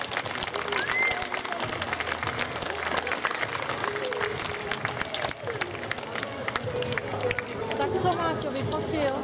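A school audience applauds a team of boys at an awards gathering: dense, sustained clapping with some crowd murmur, steady throughout.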